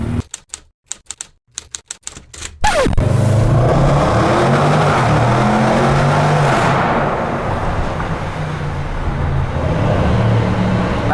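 Rapid ticking clicks, then a Range Rover SVR engine roars to life and holds a loud, rumbling rev that stays strong and close to the end.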